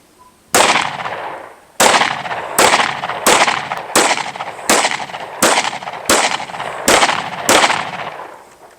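Nine loud, evenly spaced gunshots fired into a 3A soft body armor panel, each a sharp crack with a short decaying tail, roughly one per second, near and with no talk.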